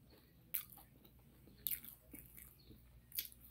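A person takes three crisp, crunchy bites of a big piece of porgy fish, heard close and spaced about a second apart over faint background hiss, with no talking.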